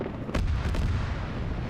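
Auto cannon rounds striking a vehicle in a military video game, two heavy thudding impacts close together over a low rumbling background, with no talking.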